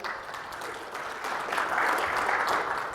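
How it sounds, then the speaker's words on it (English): Audience applause at a talk on using social media, a steady wash of many hands clapping that swells slightly toward the end, fairly close and with no one speaking over it. "Let's give everybody a round of applause again."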